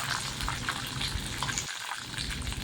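Onions tipped into hot oil with curry leaves sizzle in a steady, dense hiss for a vegetable kurma, close and continuous throughout, with a brief dip in the low rumble partway through.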